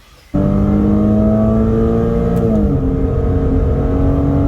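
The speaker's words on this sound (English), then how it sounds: "I'll be pressing on the pedal and pushing to hear the glorious flat 6 sound or flat 6 howl." A Porsche flat-six starts up from quiet with a sudden loud rise into a steady howling rev, the pitch holding high and then easing slightly as the engine is pushed.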